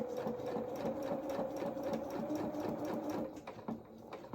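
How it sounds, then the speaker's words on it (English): A sewing machine runs steadily, stitching a quarter-inch seam down the coveralls of a small doll outfit, a close, even motor whir with rapid regular needle ticks that eases slightly near the end. "So let's carry on at 1/4 inch all the way down."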